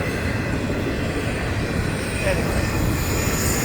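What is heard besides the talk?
train passing on the FEC Railway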